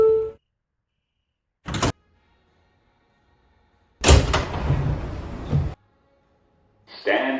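Door chime and closing doors on an R160B New York subway train: a brief tone, then a loud rumbling door-closing burst lasting about two seconds, followed by another short chime-like sound.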